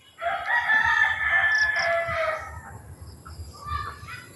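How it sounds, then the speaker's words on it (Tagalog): A rooster crows loudly and close by among chickens at feeding time, its drawn-out call filling the first two seconds before softer clucks and faint farmyard noise follow. "Ngayon po ay nagpapakain po ako sa aking mga manok."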